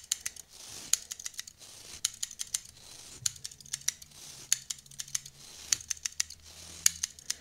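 Scissors snip hair repeatedly at close range, sharp crisp cuts in quick clusters separated by short pauses, with faint rustling between them.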